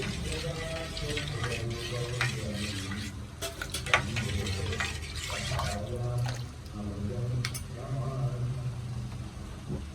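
Milk with custard powder being stirred and simmered in a pan until it thickens, a soft continuous scraping and bubbling that runs steadily with occasional spoon knocks against the pan.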